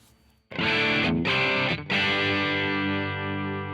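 An electric guitar on its humbucker pickups plays through the AmpliTube 5 amp simulator. It rings out as loud, distorted chords with two short gaps between strums, and the final chord is left to sustain and slowly fade.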